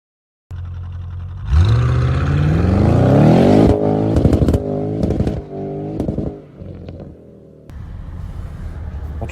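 A Mercedes GLC's engine rises loudly as it accelerates through the gears, each upshift clearly marked, then settles into a steadier drone with a brief lull near the end; no talking.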